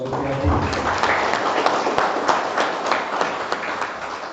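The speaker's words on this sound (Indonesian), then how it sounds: "Kita beri aplaus untuk Mas Sutanto Supriyadi" An audience at an Indonesian legal talk applauding a speaker, dense steady clapping close by, with a voice heard over the start.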